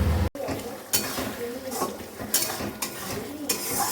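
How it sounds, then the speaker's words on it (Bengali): A spice paste with reddish fried onion, garlic and ginger sautéing in a pan, a steady close sizzle broken by a few scraping stirs and clanks of the spoon. "এদিকে এই যে মশলা কষানো চলছে"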